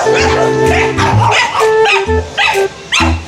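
Agitated dogs bark repeatedly in short, loud bursts with uneven gaps, sometimes overlapping. Some yips and whimpers appear, and a person talks faintly in the background.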